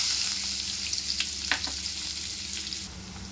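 Onion frying in hot oil with black cumin after fish has been fried, giving a steady close sizzle with a few sharper crackles and pops, with no voices.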